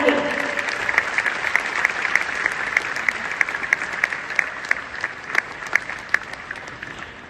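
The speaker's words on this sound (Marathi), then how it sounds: "नयन सरणीला आपण खूप खूप शुभेच्छा देऊया जोरदार टाळ्या" An audience claps loudly and steadily at a public felicitation event in Nagpur. Sharp individual claps stand out above a dense, sustained wall of applause.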